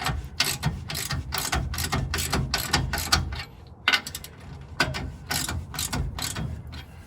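A hand ratchet clicks rapidly and repeatedly at close range, tightening bolts on custom lowering blocks during a four-link to leaf spring conversion. It comes in steady bursts with brief pauses and no talking.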